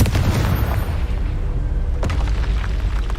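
A Confringo fire spell explodes in Hogwarts Legacy, a loud booming blast that rolls on with a sustained low rumble, with a sharper burst near the two-second mark and no talking.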